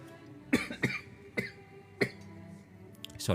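Several sharp coughs spaced irregularly, fairly close, with a throat-clearing sound near the end and no talking.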